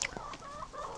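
Chickens clucking close by in a farmyard flock, a short one-second burst of overlapping fowl calls with no talk.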